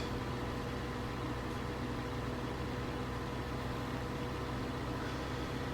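Car engine idling steadily in the video game The Long Drive, a car that is no longer running its original Dacia engine. The low, even hum drones on without change, fairly quiet and alone.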